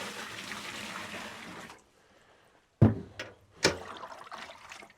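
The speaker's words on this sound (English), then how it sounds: "Give that a little rinse out" Water sloshes while a clean plastic bucket is rinsed out outdoors in Alaska, a running wash that stops, then two sharp splashes and dribbles, fairly faint.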